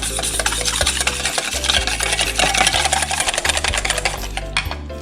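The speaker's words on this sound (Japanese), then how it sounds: "よく混ぜます。" Vinegar, salt and pepper whisked briskly in a bowl for homemade mayonnaise, a loud, steady, rapid scraping and clinking rhythm that continues throughout without talk.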